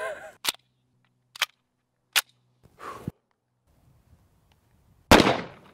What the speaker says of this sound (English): shot all 10, 2 at a time, no problem